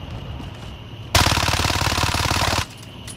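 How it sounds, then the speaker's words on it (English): Gunfire in a video game comes as one loud, close burst of rapid shots lasting about a second and a half, set against a quieter background hum, with no talk. "There's two snipers sniping at me."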